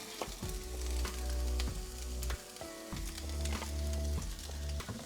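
Jalapeno pepper and onion sizzle steadily in oil in a pan for a queso fundido, a close, continuous frying hiss with periodic clatters of stirring and no talk.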